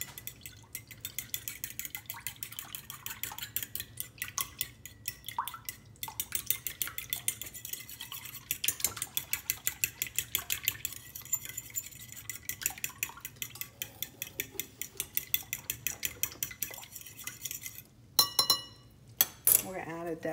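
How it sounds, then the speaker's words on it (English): Fork beating eggs with half and half and water in a bowl, a steady run of quick rhythmic clinks and scrapes against the bowl, close and fairly loud, pausing briefly near the end. "We're gonna mix it up with a fork."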